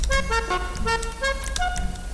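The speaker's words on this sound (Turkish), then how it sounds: "Korna." Repeated car horn toots in GTA 5 while a Fiat Tipo mod is customized, several short tonal honks in an uneven rhythm over steady game engine noise, close and loud.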